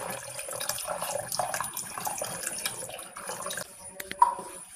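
Arrowroot flour stirred into water is poured into a pot of boiling water on the stove, giving a steady liquid pour for several seconds that ends in a few louder splashes and clinks.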